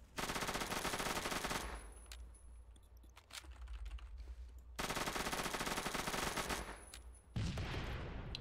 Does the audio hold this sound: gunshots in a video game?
yes